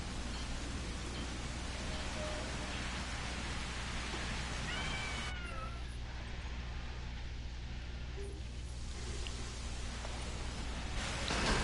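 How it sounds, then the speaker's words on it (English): A house cat meows a few times, faint and fairly distant, during a live PS4 game stream. A steady background hiss runs underneath it. "The cat."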